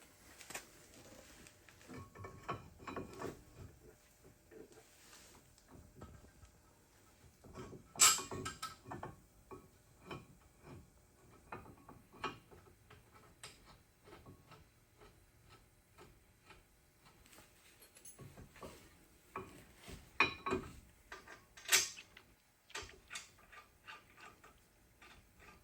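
Someone installs a car brake caliper by hand, making faint, close metallic clicks, taps and ratchet-like ticking in irregular bursts over a quiet background, with an occasional sharper clank and no talking.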